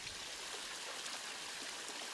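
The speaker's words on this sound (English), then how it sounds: "cascades down the waterfall" Water from a garden pond pump cascades over rocks down a small waterfall into the lower pond, a steady, soft rushing and trickling with no voices.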